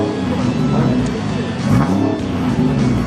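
A car's engine is revved by a helper pressing the accelerator during a tuning test, its rising and falling note swelling twice over a steady idle while people talk nearby.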